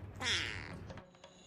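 A single drawn-out cartoon cat meow from the animated series Xiaolin Showdown rises and then trails off, close and clear, followed by faint background noise.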